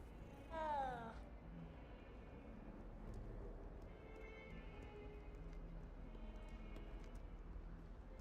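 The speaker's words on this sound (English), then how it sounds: "Random cat here." Cat meowing in the Hogwarts Legacy video game, a single short meow early on over a faint, steady game ambience with soft distant sounds.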